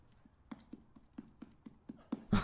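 Horse hooves clip-clop in an even, quick rhythm of about a dozen crisp knocks, moderately close, before a louder burst of noise cuts in at the end.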